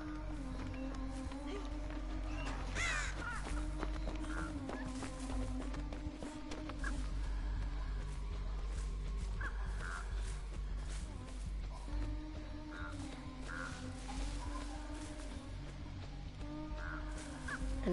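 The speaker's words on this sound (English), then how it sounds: "we got a freaking bird on top of the closet" A crow caws in the horror video game Dead by Daylight, a few scattered calls set against a low droning ambient soundtrack, with a player's voice talking at times.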